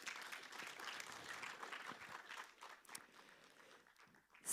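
Audience applause at the opening event of an academic year, steady faint clapping from a crowd that continues evenly, then thins near the end.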